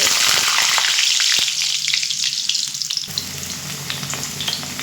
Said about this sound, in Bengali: ওই তেলের মধ্যে আমি আলুগুলো ভেজে নেব